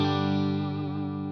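Sustained clean electric guitar chord through a Line 6 Mod Deluxe amp model with reverb switched on, ringing steadily and slowly fading with a modulated, slightly chorused shimmer, loud and alone.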